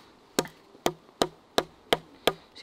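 Six evenly spaced sharp knocks of a Schrade 52 survival knife's extended pommel hammering, a steady rhythm of close, solid strikes with short ringing decays.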